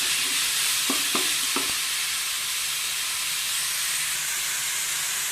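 Dill leaves dropped into a hot pan of oil for dill chitranna give a steady close sizzle and hiss, with a few short scraping stirs early on and no voices.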